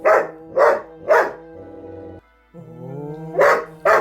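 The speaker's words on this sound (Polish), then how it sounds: "a jak się złości, to szczeka i szczeka tak." A dog barks in sharp bursts, three quick barks, then a drawn-out whine or growl, then two more barks, close and loud with no talking.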